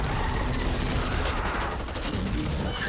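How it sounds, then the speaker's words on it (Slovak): Dense rapid gunfire from the zombie shooter video game Back 4 Blood as players shoot at targets, a loud continuous barrage of overlapping shots with no pause throughout. "Najlepšie je strieľať do tých terčov."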